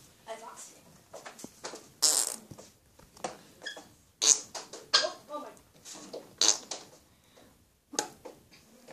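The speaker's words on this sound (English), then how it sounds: "I just done an armpit fart" A person makes armpit farts, a series of short squelchy bursts spaced irregularly, mixed with talking.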